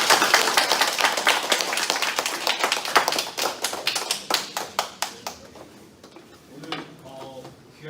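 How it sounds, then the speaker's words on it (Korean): A lecture audience claps after a talk on building hanok, a dense burst of applause that thins into scattered claps and fades out. "교수님께 다시 한번 박수 한번 어때요?"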